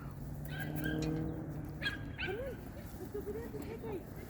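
A Caucasian Ovcharka dog at Spanish Fork Dog Park gives a few short whimpers and yips, moderately close, amid busy outdoor background noise and people talking.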